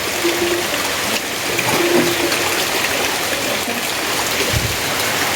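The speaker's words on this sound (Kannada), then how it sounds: "ಇವತ್ತು ಮಳೆ ಬಿಟ್ಟಿಲ್ಲ" Steady, dense rush of heavy rain pouring down continuously, loud and close, with no voices.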